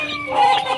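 Young chicks are being fed honey, and their bright, high peeps come in a short, close burst with no voices over them.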